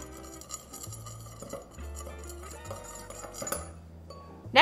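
Bath salts and drops of tangerine essential oil are stirred in a bowl, giving soft, close scraping and a few light clinks of the utensil against the dish.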